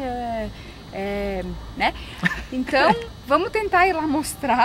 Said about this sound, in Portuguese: Esse é o cachorro real.